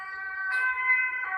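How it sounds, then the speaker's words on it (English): An ambulance siren sounds alone, loud and close, as the vehicle passes, its steady two-tone wail swelling midway and again at the end. "there's an ambulance coming by."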